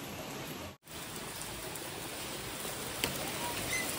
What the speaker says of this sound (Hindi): इतनी तेज हो रही है बारिश